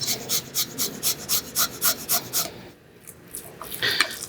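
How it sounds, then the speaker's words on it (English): Garlic cloves grated over a bowl of ground pork for burgers, a steady run of about a dozen short rasping strokes close up, then a pause and a few lighter scrapes, with no talk. "I'm going to take 2 cloves of garlic and I'm going to grate them inside."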